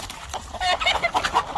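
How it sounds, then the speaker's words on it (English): Gamefowl hens on a farm cluck in a quick, uneven series of short, nasal calls, fairly close and alone without speech. "All these other hens over here."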